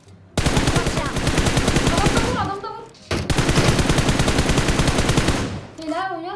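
Two long bursts of rapid automatic gunfire in PUBG Mobile, loud and close, separated by a brief pause, with faint electronic chirps at the end.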